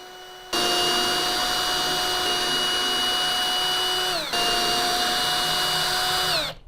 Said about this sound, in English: let's go ahead and let's zap in some screws